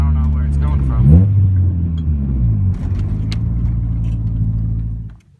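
A car fitted with a full stainless exhaust idles with a steady low rumble on a cold day, a brief rev swelling early on, while a person talks over it before it cuts off.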